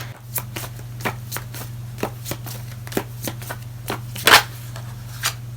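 Tarot cards being shuffled by hand, a steady series of soft riffling slaps about every half second with one louder burst near the end, set over a constant low hum.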